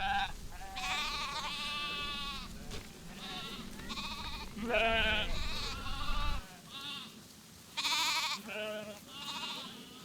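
A flock of goats, including Rove goats, and sheep bleat repeatedly, several animals overlapping at varied pitches, fairly close, in a continuous chorus with short gaps.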